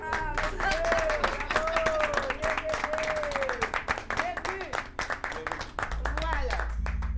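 An audience greets a band at a television variety show with brisk clapping, steady and fairly close, while a voice talks over it and tonal music or vocal sounds mingle in.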